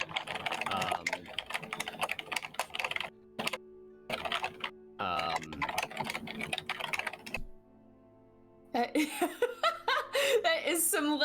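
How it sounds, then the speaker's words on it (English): Loud, rapid mechanical keyboard typing clatters in close bursts with short pauses, while people chuckle and talk over it. "Somebody has a mechanical keyboard"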